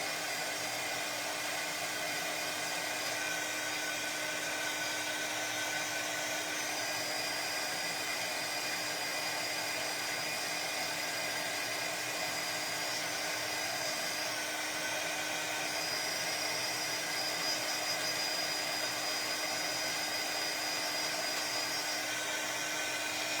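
A dryer blowing over wet craft dies, a constant steady whirring drone at moderate, even loudness that runs unbroken throughout with no voices.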